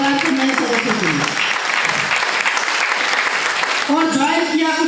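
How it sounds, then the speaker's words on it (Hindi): An audience at a training gathering applauds new members with loud, sustained clapping throughout, while a voice talks over the start and the end. "इन सभी के लिए जोरदार ताली हो जाए हमारे परिवार के नए सदस्यों के लिए।"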